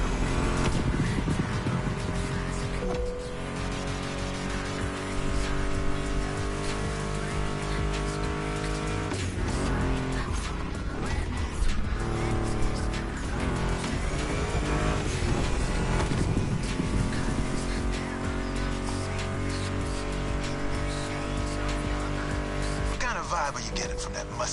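A Ford Mustang GT muscle car engine drones and revs in the driving game The Crew, sitting steadily beneath loud guitar-driven music for the whole stretch.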